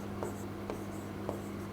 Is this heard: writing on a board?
yes